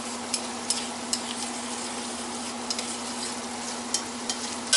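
Onion and garlic fry in a pan with a continuous close sizzle and a steady hum beneath, marked by occasional sharp clicks of a utensil stirring against the pan.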